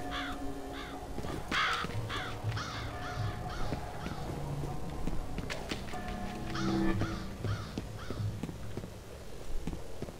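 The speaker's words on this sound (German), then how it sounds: "Die Raben machen das hier nicht unbedingt besser." Ravens caw repeatedly at night by canals in F.E.A.R. Extraction Point, harsh calls scattered over a dense, rumbling game ambience with soft thuds.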